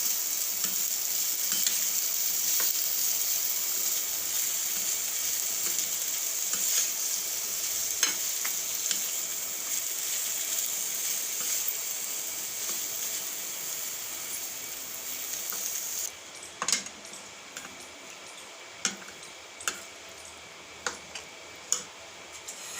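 Sizzling onion tempering for bitter gourd chutney, frying in a pan with a steady hiss and light stirring clicks. The sizzle cuts off partway through, then only occasional scraping taps remain, with no talk.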